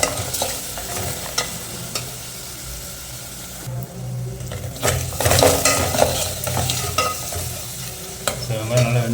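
Garlic and onions fry steadily in oil for a bitter gourd (pavakkai) gravy, with close, loud sizzling and bursts of stirring throughout.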